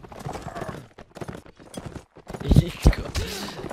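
Artillery horse hooves clip-clopping in a multiplayer Napoleonic line battle game, irregular thuds close by with a couple of heavier hits near the end, mixed with game noise and people talking.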